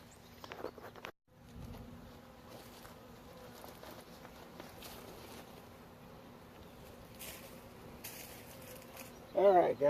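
Honeybees buzz around a backyard hive in a steady, moderately close drone, with a few rustles and a brief louder burst near the end.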